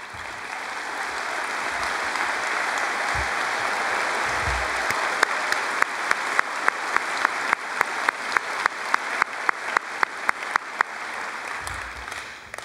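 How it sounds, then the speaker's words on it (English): Graduation audience at Chaska High School applauds honor students, a broad continuous patter of clapping that shifts into a rhythmic, synchronized clap midway and keeps that steady beat. "could you please stand up and face the audience for a round of applause?"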